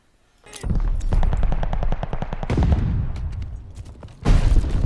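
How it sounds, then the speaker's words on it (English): Call of Duty Vanguard gunfire: loud, near bursts of rapid automatic fire with a regular clatter of shots, a short gap, then a heavy blast near the end that fits a grenade explosion. "Let's go with a simple grenade"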